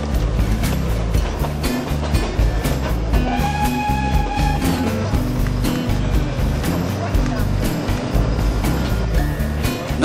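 A tourist train runs along a 7 km line through the Ouche valley, with a continuous loud rolling rumble and occasional thin metallic squeals from the wheels.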